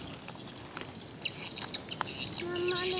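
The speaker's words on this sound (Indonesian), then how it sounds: "Ini berisik karena ada suara burung ini. Burung walet itu rumahnya di depan." Swiftlets calling near a swamp fishing spot: faint, rapid high chirps and twitters scattered over a steady background hiss, moderately distant.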